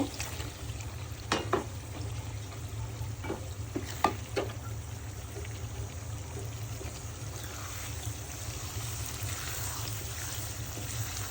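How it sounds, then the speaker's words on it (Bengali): Fish being added to an onion and spice masala frying in a pan, making a steady sizzle with a few brief clinks and stirring scrapes around the start and middle. The sizzle sits close and moderately loud, with no talk. "এই যে পেঁয়াজ মশলা আমি ভালো করে কষিয়ে নিলাম এই যে মাছগুলো সুন্দর করে ভালো করে ধুয়ে নিয়েছি এখন আমি মাছগুলো দিয়ে দিব"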